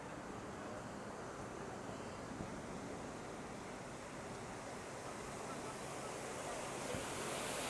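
Fountain water running steadily in Toronto on a nice spring day, a constant broad rushing wash that stays loud and even throughout with no breaks.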